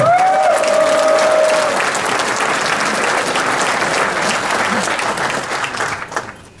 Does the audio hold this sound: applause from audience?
yes